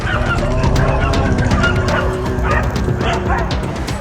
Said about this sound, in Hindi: जिसके बाद वो कुत्ते गाय पर टूट पड़े और चारों तरफ से नोचते दिखाई दिए।